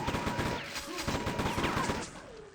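Rapid chain gun fire in a Quake 2 duel, a dense continuous stream of loud shots rattling on without pause, with faint whooshing weapon and movement effects layered in.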